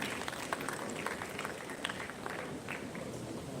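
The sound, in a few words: audience applause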